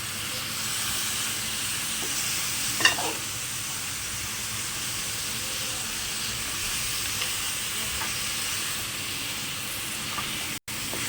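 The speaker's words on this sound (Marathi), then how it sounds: "आता त्याला 5 मिनिटं ना आपण असं कांद्यावर फ्राय करून घेऊया चांगलं" Mutton fries with onions and masala in a pan for an Agri-Koli wedding-style curry, giving a steady, even hiss throughout with a faint clink or two and no talking.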